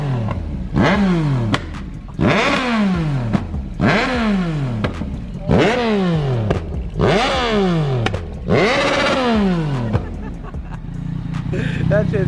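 A motorcycle engine revs hard in roughly six repeated bursts, each climbing then dropping back, loud and close with a roaring, clattering tone; voices murmur faintly behind it.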